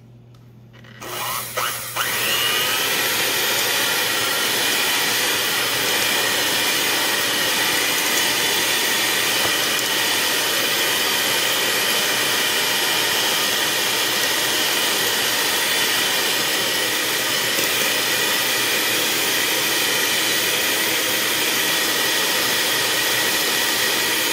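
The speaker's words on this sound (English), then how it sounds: "I got my hand mixer here, and I got the dough mixers." A hand mixer fitted with dough hooks starts up with a click and runs loud and steady, a continuous whirring motor drone creaming room-temperature butter and cream cheese for kolacky cookie dough, with no speech.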